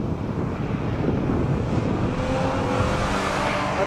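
A V6 Ford Mustang laps Willow Springs, its engine a steady, loud broadband roar mixed with heavy wind rush and a faint tonal whine that rises toward the end, with no talking.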